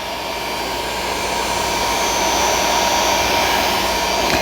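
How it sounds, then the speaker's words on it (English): A heat gun blows hot air over a plastic universal fender flare, a loud steady whooshing roar held close and unchanging throughout, with no voices. "Take the heat gun, and we'll kind of go around and we'll try to kind of form this"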